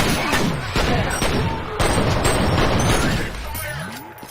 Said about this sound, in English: the gunshot sound effect for this thing is fucking boss. It's loud and sounds dangerous.